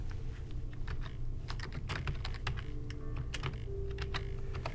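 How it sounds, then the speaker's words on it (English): Someone types a chat message on a computer keyboard in a media-manager program, rapid irregular key clicks continuing throughout, close and clear over a low background hum, with no talking. "Now I can type a message."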